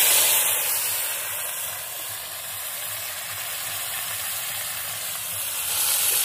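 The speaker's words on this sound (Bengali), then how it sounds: "এটা গরম হয়ে গেছে, ভেন্ডিগুলো এবার ভেজে নেব।" Okra coated in salt and turmeric frying in hot oil, a soft continuous hiss and sizzle that holds steady for several seconds, close by with no voices.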